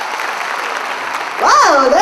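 Audience clapping at a live concert, loud and continuous, with a voice cutting in over the applause in the final half second.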